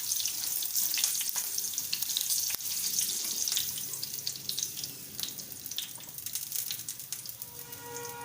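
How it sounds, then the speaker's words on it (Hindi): Green chillies fry in oil with a steady, fairly loud crackling hiss and scattered sharp pops throughout, no voices present. "हरी मिर्ची इसको मैं फ्राई करके निकाल लूँगी, लास्ट में डालूँगी।"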